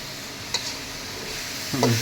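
A cauliflower and potato masala gets stirred in a pan, giving a soft sizzle under a faint scrape of the spoon, with a brief clink near the start and another louder knock at the end.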